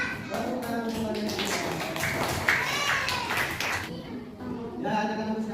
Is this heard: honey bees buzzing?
no